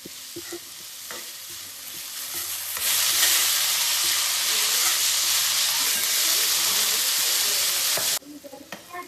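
Paneer fried rice ingredients fry in a pan. A few light clinks of stirring come first, then a loud, steady sizzle lasts several seconds and cuts off abruptly, leaving quieter clatter.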